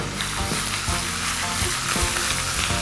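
Whole spices, among them bay leaf, fenugreek, fennel, nigella seeds, ginger and whole dried red chillies, sizzle and crackle loudly and steadily in hot oil for a tempering, with no voices.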